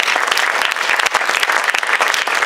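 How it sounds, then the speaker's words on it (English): Brisk, dense applause from an audience for candidates after a local political debate, close and loud clapping that continues evenly without speech. "Why don't you give the candidates a round of applause?"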